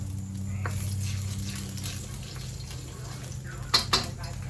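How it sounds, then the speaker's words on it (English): Chicken and scallions cooking in a wood-fired wok, a steady low roar of fire and sizzle with light metal scraping and two sharp clanks near the end. "That wood-fired wok going on."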